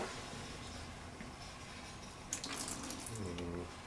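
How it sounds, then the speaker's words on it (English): Water is poured from a tap or container into a KN95 mask, a steady splashing trickle that swells into louder running and spilling toward the end, with no talk over it. "And you can pour water in there, and then we'll see if it puddles."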